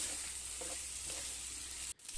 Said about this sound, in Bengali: এবার আমি ভাজা ফুলকপিগুলো দিয়ে দিচ্ছি। দিয়ে আমি ফুলকপির সাথে মশলাগুলো আরও 4 থেকে 5 মিনিট কষিয়ে নেব।